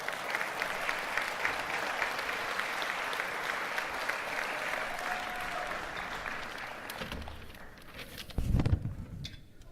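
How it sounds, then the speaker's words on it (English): Applause from an audience at an athletic directors' awards ceremony fills most of the stretch, steady and moderately loud, then thins out near the end, where a few louder bumps and a brief voice follow. "Can we give them all one big more round of applause?"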